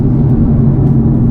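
Nissan 370Z accelerating hard on a wet road, a loud steady engine drone with a low throaty hum heard from inside the car, no talk.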